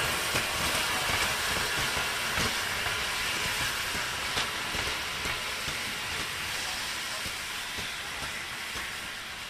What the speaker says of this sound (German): Die 58er der Ulmer Eisenbahnfreunde fährt ein.